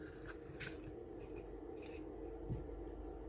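Scissors snip the bottom off an artificial Christmas tree, faint quick cutting and rubbing sounds close by with one sharper snip near the end.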